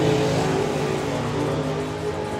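Drag racing cars, a Z-car Datsun and a Barracuda, roar down the strip at a drag racing festival, producing a loud continuous engine drone that holds steady without pause.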